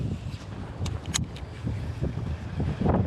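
Strong gusty wind on an open lake during bass fishing, a steady broadband rush with buffeting on the microphone, swelling in louder gusts toward the end, with no talk.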